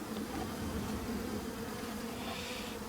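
Agitated honeybees from a residential hive cutout drone steadily in a dense, continuous buzz close by, loud and unbroken with no voices.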